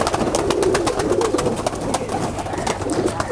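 A Neel Dumba high flyer pigeon coos close by in soft, repeated throaty phrases over a steady background hiss, with no talk.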